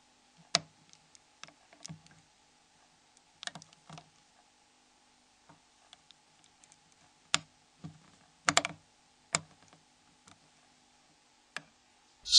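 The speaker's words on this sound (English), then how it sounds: "Slide the SRT6 along the marked edges to unlock the snaps." An SRT6 plastic opening tool prying snaps loose on a Nokia N73 phone cover, sharp isolated clicks and ticks scattered irregularly over quiet, close up, with brief scraping between snaps.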